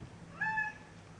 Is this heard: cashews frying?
no